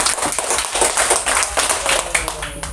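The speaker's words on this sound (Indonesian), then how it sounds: "Tepuk tangan dulu untuk kita semua." A class of students claps hands together in a classroom, a close, brisk burst of uneven individual claps rising and falling over a few seconds.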